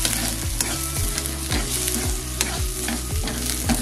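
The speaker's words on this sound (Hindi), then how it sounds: "बीच बीच में आप चम्मच चलाते रहिए ताकि ये प्याज जले नहीं" Onions frying in a pan are stirred with a spoon, giving rhythmic scraping strokes about twice a second over a steady close sizzle, with no talking.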